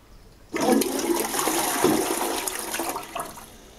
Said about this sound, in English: Here it is again, the half flush.